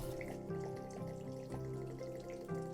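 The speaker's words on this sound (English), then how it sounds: "Now we're gonna put some water into the vermicelli." Water poured from a tap or jug onto dry vermicelli noodles in a kitchen while making vegetarian spring rolls. It is a steady, soft trickle with light dripping under faint tonal background sound.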